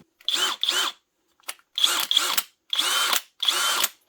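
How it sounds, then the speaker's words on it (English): A cordless impact drill whirs in short bursts, two quick pulses, a brief blip, then several longer runs with silence between them, close and clear. "this is the impact drill"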